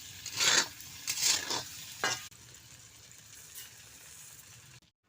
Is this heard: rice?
yes